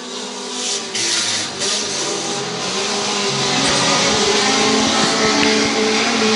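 Midget race cars roar around the Belleville oval in the final heat, a steady dense engine drone that swells slightly as the pack passes close, with no talk over it.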